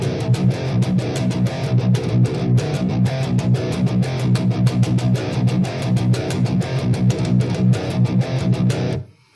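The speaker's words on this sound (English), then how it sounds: "what I like to do is do the reverse gallop rhythm in between the original riff" Heavily distorted electric guitar in B standard tuning chugging a fast palm-muted reverse gallop metal rhythm, tight repeated bursts of notes, loud and close, stopping abruptly.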